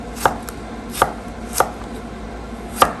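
A kitchen knife squaring off a carrot for ginger broth, four crisp evenly spaced chops against a cutting board, close and distinct, with quiet room tone between strokes and no talking.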